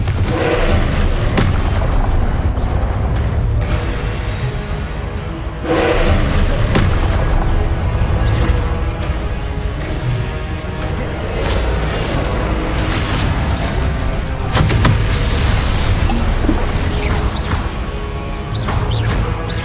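Repeated Confringo fire-spell blasts in Hogwarts Legacy, heavy booming thuds and bursts layered over a constant loud rumble of battle, several impacts spaced a few seconds apart with no clear pauses.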